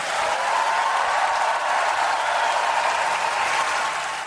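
A crowd greets Czech President Petr Pavel with sustained, even applause that stays loud and dense throughout before easing slightly at the end.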